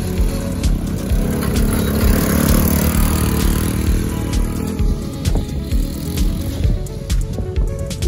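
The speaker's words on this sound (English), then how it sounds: "Gotta get a new engine for his four-wheeler." A four-wheeler ATV engine runs steadily close by with a rough, droning rumble and sharp clicks, outdoors during a ride.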